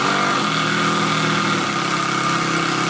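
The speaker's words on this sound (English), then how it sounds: "this is a repeated impact sound" A continuous loud, grating mechanical buzz of rapid repeated impacts from a battery-powered hammer tool, steady and close throughout.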